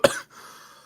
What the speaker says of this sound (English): let me just mute him while he's coughing